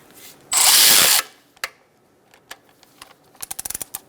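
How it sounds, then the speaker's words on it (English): Power tool tightening alternator bolts on a 2002-2006 Toyota Camry 2.4L four-cylinder: one loud, steady whir lasting about half a second, then scattered faint clicks and a quick run of sharp ratcheting ticks near the end. "Let's tighten up our bolts here and here."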